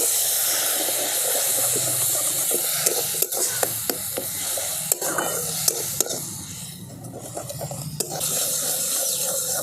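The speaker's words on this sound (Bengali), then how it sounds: "সামান্য একটু জল দিয়ে মশলাটাকে ভালো করে কষিয়ে নিচ্ছি" Spice paste of ground cumin and coriander frying with a splash of water in a pan, giving a steady close hiss and steamy sizzle with scattered sharp clicks of stirring.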